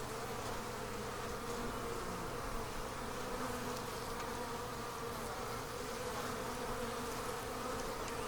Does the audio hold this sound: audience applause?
no